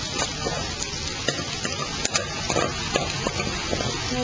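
Ginger sizzles in hot oil in a pan with beef for chilli beef, a steady close frying hiss broken by light stirring and scraping taps.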